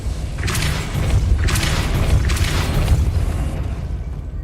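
The Depulso force spell lands in Hogwarts Legacy, three forceful thudding bursts about a second apart, each a loud whooshing boom over a steady low rumble.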